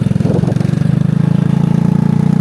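A scooter engine idles steadily with a low, even putter, close by and continuous, with no voices over it, in Khao Yai, Thailand.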